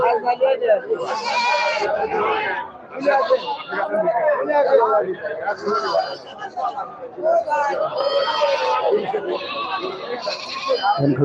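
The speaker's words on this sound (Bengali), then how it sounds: "হাজার হাজার সব ছাগল আছে আমাদের রবিবারের হাট শুধু ছাগল আর ছাগল" Many goats bleat over and over at a busy Sunday livestock market, their calls overlapping continuously with crowd chatter and people talking nearby throughout.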